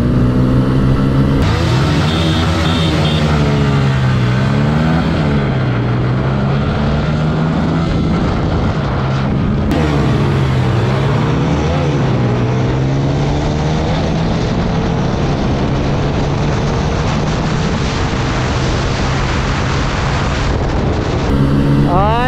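Bajaj Pulsar and TVS Apache 160 4V motorcycles launch hard in a drag race, their engines roaring loud and close, pitch climbing and dropping through gear changes in a continuous, unbroken snarl.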